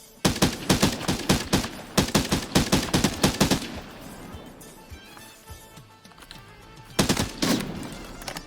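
Gunfire rattles out in an extraction shooter video game, with rapid bursts of loud automatic shots, then a quieter stretch and another close burst near the end.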